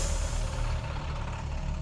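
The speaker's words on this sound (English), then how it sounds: "The bus wheezed to a stop." A bus comes to a stop at night with a loud, continuous wheeze of air brakes over a low engine rumble.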